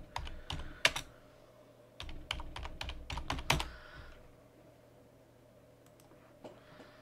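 Typing on a computer keyboard: bursts of sharp key clicks at close range, then a quiet pause and a few scattered taps, with no speech over them.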